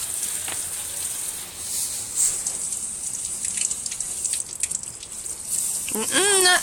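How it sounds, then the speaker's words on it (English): A child plays with water on a front patio, with steady hissing splashes and drips running throughout, a short child's vocalization near the end. "You like playing on the front patio with your water?"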